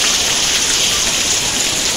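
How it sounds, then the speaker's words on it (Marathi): Heavy unseasonal rain lashes down in a steady, dense roar, whipped by strong wind, loud and close throughout with no voices. "वारा पण जाम सुटला आहे आणि पाऊस पण जाम आला आहे"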